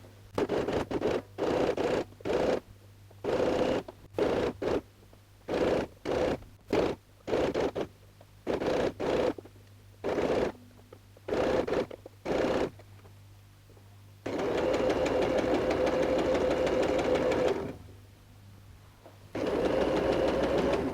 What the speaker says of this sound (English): just going ahead and sewing the zigzag stitch